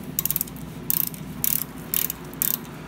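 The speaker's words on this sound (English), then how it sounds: "put it right on the oil drain plug, and loosen that bad boy up" Close-up ratcheting from a 5/8 socket wrench loosening the oil drain plug on a Harley-Davidson Fat Boy, with crisp rapid clicking bursts repeating in an even rhythm about every half second.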